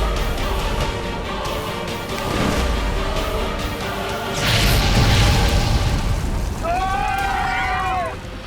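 A loud, sustained rumbling blast on a burning passenger train in a TV fantasy drama, swelling in the middle and carried under dramatic music, with a voice talking over it.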